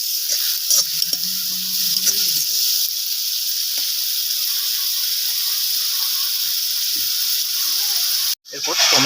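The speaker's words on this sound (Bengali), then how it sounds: "আমি পেঁয়াজের পেস্টটা দিয়ে দেবো। ভালোভাবে মশলাটাকে আমি ভেজে নেব।" Onion paste and spices frying in a pan, giving a loud, steady hissing sizzle throughout with a few faint scrapes of stirring near the start, then a sudden brief cut before the sizzle returns.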